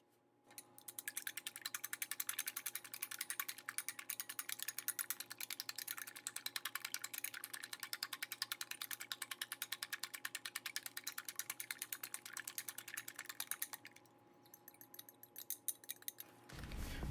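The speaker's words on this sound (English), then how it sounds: "in the same bowl where you smashed bananas, break 2 eggs and beat them for 1 to 2 minutes." Rapid, rhythmic clicking of eggs being beaten by hand with a utensil in a bowl of mashed bananas, a close, continuous fast ticking that runs for about thirteen seconds and then slows and stops.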